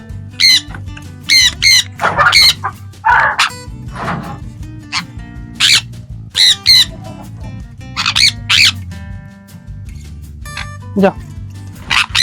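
Pet sun conures squawk loudly and repeatedly in short harsh bursts, with a few barking-like calls mixed in, close by.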